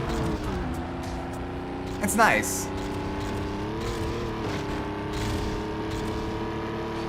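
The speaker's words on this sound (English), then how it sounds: "you just hear everyone shifting gears behind me. The gear shift sound effect is so loud." Racing cars in the Need for Speed Underground Rivals video game sound as steady, droning engine tones, with one rising rev sweep and the clicks of gear shifts. A person talks briefly over them.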